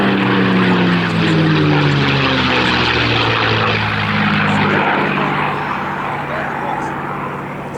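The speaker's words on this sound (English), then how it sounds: "These are the markings of a 4th Fighter Group Mustang flown by Colonel Don Blakesley" A P-51 Mustang in 4th Fighter Group markings flies at RAF Cosford Airshow 2022, its loud steady propeller-engine drone slowly shifting in pitch as it passes, with a voice talking over it.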